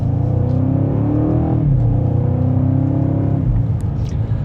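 A 2026 BMW M5 in Sport Plus, second gear, accelerating mildly: a loud, smooth low engine drone heard from inside the cabin, rising gently in pitch, with no talk.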